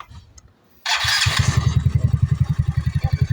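Motorcycle engine starting after a quiet moment, catching with a burst of noise, then settling into a loud, rapid, pulsing idle that revs with a regular throbbing rhythm, close by.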